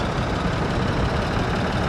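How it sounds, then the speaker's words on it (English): A Ford 4000 tractor leaves the arena at an old time rally, its engine giving a steady, loud, broadband rumble with no breaks. "We see a lovely Ford 4000 leaving the arena now."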